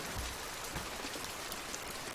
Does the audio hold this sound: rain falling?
yes